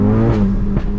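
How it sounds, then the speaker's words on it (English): A Stage 3 VW Golf GTI making about 492 PS accelerates hard with a loud, steady, close engine drone, and its pitch climbs and rises twice through the second. "Everyone just see the car sounding like a machine gun going past"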